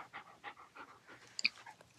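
A friendly stray dog pants softly and steadily in a quiet outdoor setting, with a couple of brief sharper sounds partway through and no talking.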